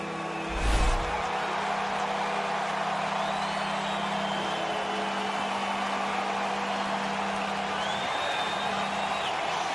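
Loud roaring stadium crowd at an Oakland Raiders NFL home game against the Tampa Bay Buccaneers, a steady dense wall of noise with a brief louder burst near the start, sustained without pause.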